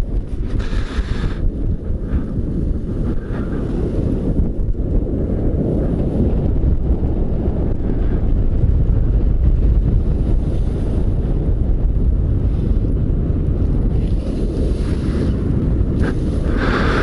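Strong wind gusts roar past at a lake during a motorcycle tour, a loud, continuous rushing buffet that swells and eases, with no talk.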